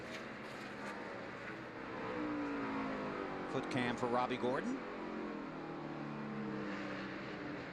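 Stock car engine at the 2009 NASCAR Toyota/Save Mart 350 on the Sonoma road course, from Robby Gordon's car running behind Tony Stewart: a sustained engine drone rises and falls under continuous race commentary.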